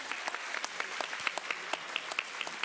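A school audience applauding students of the month, a moderately distant patter of clapping hands with sharp individual claps standing out, fairly quiet and without talk.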